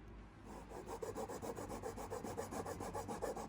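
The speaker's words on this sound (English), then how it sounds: "Just with pull saw, getting them plugs down." A pull saw trims wooden plugs flush, rasping in quick, even back-and-forth strokes close up, with no talk.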